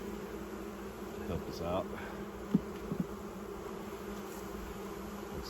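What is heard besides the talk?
honeybees buzzing at a hive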